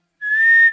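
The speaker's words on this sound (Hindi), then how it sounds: "किसने बजाई सीटी?" A single sharp, high-pitched whistle blast rings out clearly for about half a second, loud and steady with no voices around it.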